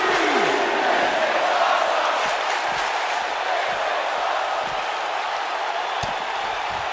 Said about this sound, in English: the crowd is loving Sasha's act